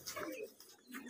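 Giribaz pigeons in a loft give brief soft coos and bird calls, close by, with a faint voice mixed in.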